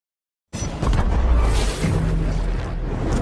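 A speared megalodon blowing up in a film scene: a sudden loud explosive boom after half a second of silence, then a sustained roaring rumble with whooshing debris that stays loud to the end.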